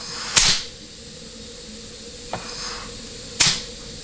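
Compressed air blasts from a nozzle into an automatic transmission servo, giving two sharp hissing bursts about three seconds apart with a fainter puff between, close and loud over a quiet background hum.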